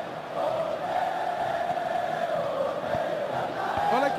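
A simulated stadium crowd in a PES 2019 football match, Palmeiras against Ponte Preta, gives a sustained roar of cheering voices that swells and holds across the moment.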